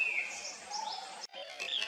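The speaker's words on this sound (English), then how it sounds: "Orange-headed ground thrush, also a bird of thrush family and a nice singer too." Orange-headed ground thrush singing, clear whistled phrases and chirps at moderate distance, broken by a brief pause before the song resumes, with no talking.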